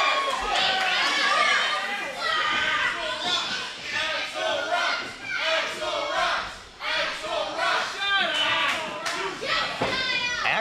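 A hot wrestling crowd at a live JWA Pro Wrestling show chants for Axel Rico. Dense, loud massed voices rise and fall in waves for the whole stretch, with shouts and cheers mixed in.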